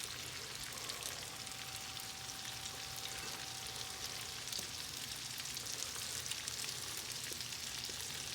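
Shrimp for shrimp scampi sizzle steadily in a hot pan, a dense, even crackle and hiss running without pause from start to finish at close range, with no talking.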